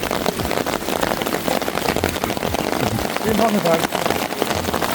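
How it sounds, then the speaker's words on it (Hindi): Heavy rain pours steadily with dense patter on a large umbrella close by at a riverside picnic, and a voice speaks briefly underneath. "और बारिश पड़ी है बड़ी जोर की"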